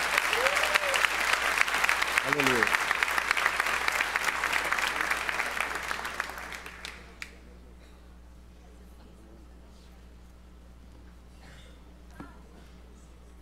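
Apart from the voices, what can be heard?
church congregation applauding loudly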